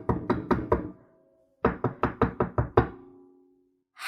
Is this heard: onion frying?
no